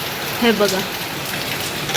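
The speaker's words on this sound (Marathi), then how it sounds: "समोरचं काही दिसत नाही इतका पाऊस आहे." Heavy rain heard through an open bedroom window, a steady close hiss of downpour with someone briefly speaking over it.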